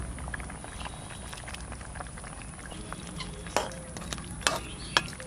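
A shol fish head simmering in a curry with taro, giving a low steady bubbling and sizzling hiss, broken near the end by a few sharp clinks of a utensil against the pan.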